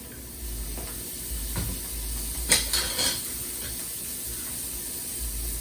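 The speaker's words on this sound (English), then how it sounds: "And now we have some of the carrots. Once again, we just want to just like a little light saute." Carrots lightly sautéing in a pan during locust bibimbap prep, with a soft steady sizzle and hiss plus a couple of brief stirring scrapes near the middle, close and fairly quiet.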